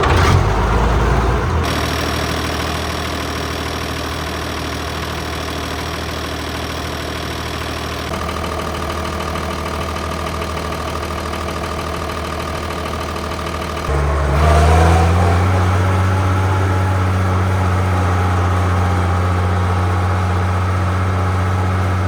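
A tractor diesel engine cranks, catches and settles into a loud steady idle after its fuel is primed, then revs up to a higher, rougher drone near the end.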